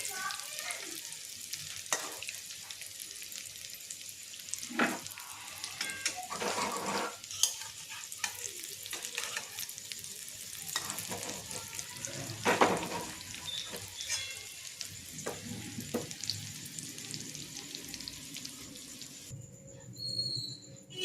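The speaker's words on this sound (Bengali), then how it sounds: "এই দেখুন ওলের বড়াগুলো আমার ভাজা হয়ে গেছে" Yam fritters sizzling and crackling in hot oil, with occasional stirring and clinks of a utensil against the pan, no talking.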